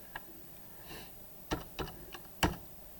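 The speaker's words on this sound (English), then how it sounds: "Now it is waiting for me to type in an input" A few scattered keystrokes on a computer keyboard, close but soft, isolated clicks over a quiet room hiss with no talking.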